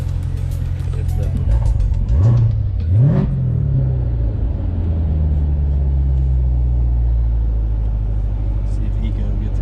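A fast sports car's engine revs on a test drive with traction control off, rising in two quick sweeps before settling into a steady low drone, with people talking over it.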